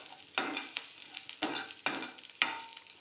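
Cumin seeds frying in a pan while being stirred, with sharp bursts of sizzle and scraping strokes about every half second, close and crisp, no voices.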